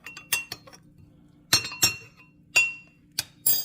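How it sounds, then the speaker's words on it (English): A spoon stirring cornstarch in a glass of liquid while making a beef and broccoli sauce, giving a series of bright, close clinks in irregular bursts with brief quiet gaps between them. "Then I just stir it up until all of the cornstarch is dissolved in here."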